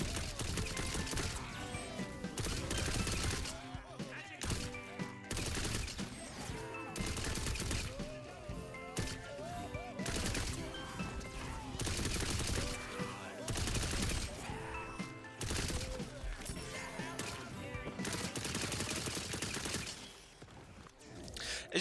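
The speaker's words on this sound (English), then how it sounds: "the Ruby Spite shoots this slow shooting arc of three wide bolts" Ruby Spite gun in Tiny Tina's Wonderlands fires slow wide bolts in a steady series of loud, punchy bursts with short gaps, each shot layered with crackling impacts.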